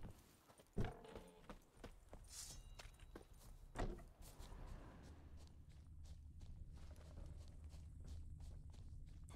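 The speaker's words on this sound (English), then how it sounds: "Horses." Horse hooves in The Witcher 3 clip-clop at a steady walking pace, with a couple of heavier thumps early on and a soft low hum underneath.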